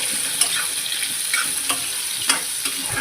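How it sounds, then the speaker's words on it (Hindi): Boiled potatoes fry in hot oil for a sabudana bhujia snack, a loud steady sizzle with spoon scrapes and stirring knocks recurring every second or so, close and with no voices. "आलू को हम लगातार ऐसे चलाते रहेंगे, थोड़ी देर फ्राई करेंगे।"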